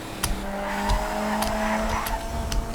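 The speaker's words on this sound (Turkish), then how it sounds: "Mesela driftten kastım şu tarz bir drift yani." A Fiat Tipo car drifting in GTA 5, with a sustained engine drone and tire squeal sliding through the turn, punctuated by a few sharp bursts, loud and close.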